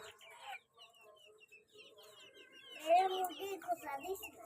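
A hen clucks in a quick, uneven run of calls, getting louder and busier toward the end, with a few quieter clucks and faint background sounds before it.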